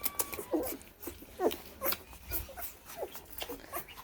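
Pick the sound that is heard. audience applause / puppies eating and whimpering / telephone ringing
puppies eating and whimpering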